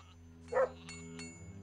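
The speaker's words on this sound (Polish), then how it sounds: "Bardzo ładny piesek, bardzo ładny model pieska." A single short dog bark rings out in the video game Gothic II: Archolos, clear and close, over quiet ambient game music.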